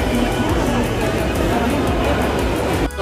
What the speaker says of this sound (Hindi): बहुत भीड़ है, कोई भी सोशल डिस्टेंस नहीं है दूर दूर तक।